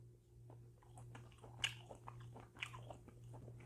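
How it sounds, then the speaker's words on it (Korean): Soft, close chewing and biting of plain cockle meat from a Korean seasoned-cockle meal kit, with small wet crunches scattered over a quiet background hum and no talking. "꼬막 그냥 한번 먹어볼게요"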